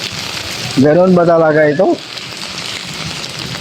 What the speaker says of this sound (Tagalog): Grabe, ilang araw na itong ulan na ito.